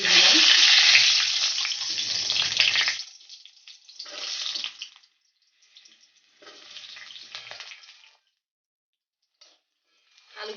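Bay leaf and garam masala hit hot oil with a loud, hissing sizzle that fades, followed by shorter sizzling bursts separated by silent gaps.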